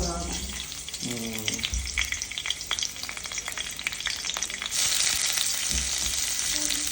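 Onions hit hot oil in a heated kadhai and crackle in a dense, close sizzle. The hiss swells noticeably louder toward the end, with faint voice-like sounds early on.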